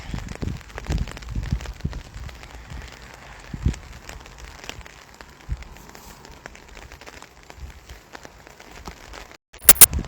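Rain falls outdoors in Switzerland in summer, a soft patter with scattered crackling drops and occasional louder bumps, steady and fairly close, with no talk over it and a few sharp knocks at the very end.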